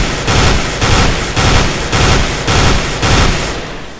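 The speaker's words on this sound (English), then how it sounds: "Burst fire mode of FAMAS is just the right thing if you want to take that sniper on long A." FAMAS rifle firing in burst mode in a first-person shooter game, six evenly spaced loud bursts in steady rhythm, close and alone with no talk.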